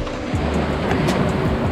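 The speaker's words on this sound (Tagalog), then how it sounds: "Kahit malaki yung alon dito." Rough, churning sea water crashes and sloshes close by, big waves breaking against a seawall with a continuous roar and splashy bursts.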